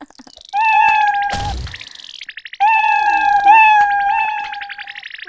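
A cat in a Roblox game gives two long, loud, clear meows separated by a short pause, with a brief burst of noise between them.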